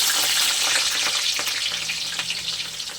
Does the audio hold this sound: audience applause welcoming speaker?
no